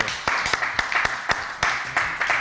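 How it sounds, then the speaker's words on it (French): Studio audience clapping in a French live TV show, a dense patter of hands with sharp individual claps standing out, steady and fairly close throughout. "On applaudit très fort Agathe"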